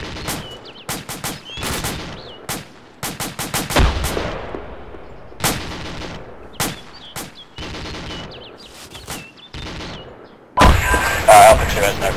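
Gunfire rings out during a ShackTac Vietnam mission in the Arma video game, as sharp separate shots and short bursts with gaps between them, some close and loud, while radio voices talk.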